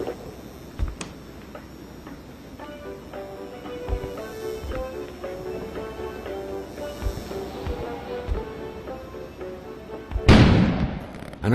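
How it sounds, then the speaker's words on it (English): A sudden explosion bursts outside in the video game Kona, a loud broadband blast late in the clip after a stretch of quiet ambient music with soft ticking. "An explosion suddenly occurred outside."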